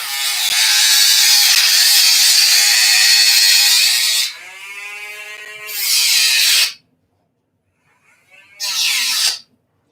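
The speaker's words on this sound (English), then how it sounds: "This is a Dremel Micro, battery powered." A battery-powered Dremel Micro rotary tool cutting during model railroad work, a loud high whine that runs steadily, dips, surges again, then stops before one final short burst.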